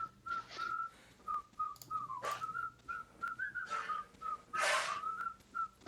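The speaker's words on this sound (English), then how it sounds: "And the ending whistles, I think they just turn so hilarious that we got to listen to them by the end." Melodic whistling closes a song, with a bright, sustained tune of held and sliding notes and breathy bursts between phrases.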